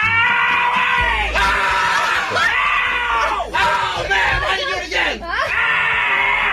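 Several people on a radio show scream loudly and repeatedly, overlapping shrill wails and yells rising and falling in pitch close to the microphone.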